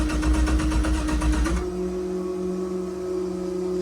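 A car engine, prepped for the Summernats event after sitting for months, runs with a loud, dense mechanical roar that abruptly drops to a steadier, quieter idle hum partway through, with no talk.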